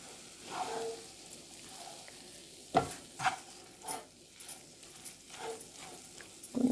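A spoon scrapes and knocks through capsicum gravy curry with masala in a pan, irregular soft clacks and stirs over a quiet bubbling simmer.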